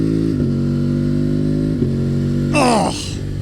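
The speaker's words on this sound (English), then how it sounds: "listen to the auto shift in this exhaust combo" Loud, close engine drone from a Yamaha Tuareg motorcycle with an aftermarket exhaust, holding steady through quick shifts before a sharp rising rev near the end that then cuts back.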